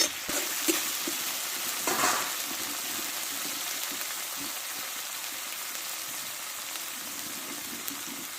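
A garlic, ginger and cumin paste fries in a pan, giving a steady, fairly soft sizzle with a faint crackle that stays even from start to finish. No voices.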